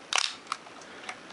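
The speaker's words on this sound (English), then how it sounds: "I thought what we'd do is just step down through the shutter speeds here" A Pentax K SLR camera with its lens removed fires its shutter at 1/500th of a second, giving one quick, crisp mechanical snap up close, followed by a few faint ticks in a quiet room.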